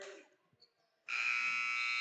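A basketball game buzzer sounds as a sudden, loud, sustained electronic blare, cutting in after a brief spell of faint crowd noise and holding steady to the end.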